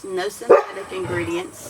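A dog in the house gives a quick bark or yip that cuts in once under someone talking in the kitchen.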